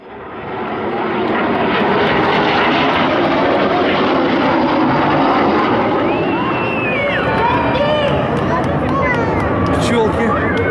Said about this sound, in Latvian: Demonstrēs manevru ar izlaistām lidmašīnas šasijām.